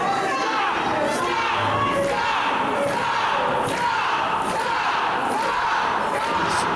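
Wrestling crowd cheering for the team of Scott Tyler and Kenny Alfonso, loud rhythmic chanting and shouting swelling in regular pulses.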